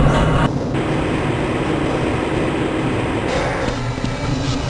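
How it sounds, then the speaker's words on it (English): A Black Mesa transit tram rolls along its track in Half-Life: Blue Shift, producing a steady, close, continuous rumble and rattling clatter with no pauses and no voices. "This train is inbound from the Area 8 topside dormitories to the Central Transit Hub in Area 9."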